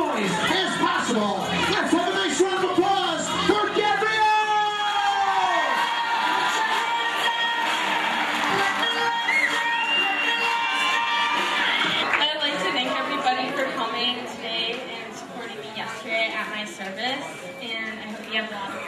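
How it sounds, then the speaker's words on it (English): Guests at a bar mitzvah party erupt in loud cheering, whoops and children's shouts that fill the room, then settle into crowd chatter while people talk over the noise. "Let's have a nice round of applause for Gabrielle!"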